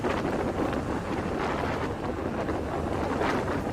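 Strong gusty wind roars steadily and loudly, a dense, unbroken rush with slight surges, heard during an A330 landing in a flight simulator with heavy gusts at the airport. No voices.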